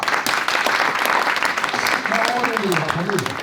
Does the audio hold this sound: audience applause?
yes